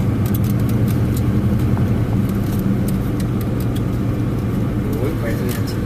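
Road traffic in Iguala, Mexico, heard from inside a moving car, with a constant rumbling engine and road drone and a few faint ticks and clatters over it.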